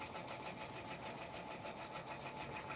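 An embroidery machine stitches a kids jacket, a fast, steady mechanical chatter with an even repeating rhythm, close and continuous with no voices.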